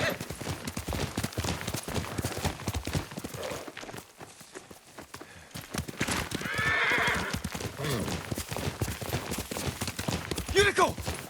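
A horse's hooves clip-clop in the video game Ghost of Tsushima, steady walking steps with a clear neigh partway through and another whinny near the end, with some voices around.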